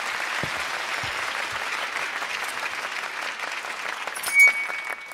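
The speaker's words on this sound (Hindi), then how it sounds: "तालियां।" Sustained audience applause at a Hindi poetry recitation, a dense, even wash of many hands clapping at steady loudness with one brief louder swell near the end.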